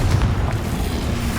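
A Confringo explosion spell cast in the video game Hogwarts Legacy: one loud, dense boom with a rumbling low body that fills the whole short moment.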